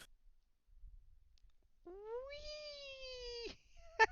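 A single drawn-out cat meow rises and holds for over a second before breaking off, clear and close against a quiet room, followed by a brief sharp chirp.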